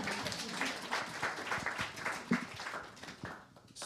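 A small audience at an archival conference workshop claps for a few seconds, a moderate scattering of hands that thins out toward the end.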